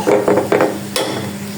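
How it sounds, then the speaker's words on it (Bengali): Zorda semai, long sweet vermicelli, is stirred with ghee in a pan, giving several scraping, clattering strokes with a soft sizzle beneath and a sharper clack near the end, close and fairly loud. "এখন এটাকে আমি ভালো করে মিক্স করে নিব"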